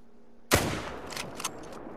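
A single loud rifle gunshot in a hunting video game: a sharp, sudden crack followed by a rolling, decaying echo and a few faint trailing rattles.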